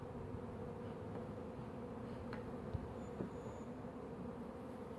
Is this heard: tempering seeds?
no